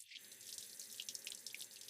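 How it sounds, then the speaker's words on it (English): Water from a kitchen tap runs steadily into a sink as vegetables are washed under it, a close, continuous splashing hiss with small irregular spatters and no voices. "I wash the vegetables."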